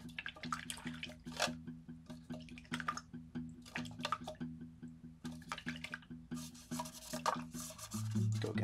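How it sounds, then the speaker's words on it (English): Soft rubbing and light splashing as a brush with tempera paint swishes in a small cup of water, under a steady low background hum. "you're going to wash your brush."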